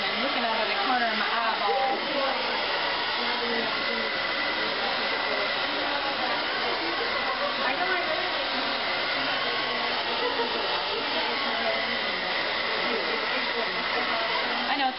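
Hair dryer blowing on hair, a continuous airy whoosh with a steady motor drone that holds at even loudness throughout, close by.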